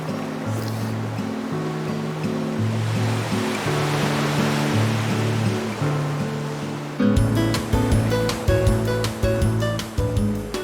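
Sea waves washing onto the rocky Jeju coast, a loud continuous surf roar with broad rushing swells and splashes close by, no voices.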